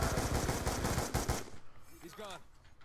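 Rapid automatic gunfire in the video game Black Ops 2, a loud burst of close shots lasting over a second before it cuts off, followed by a brief voice.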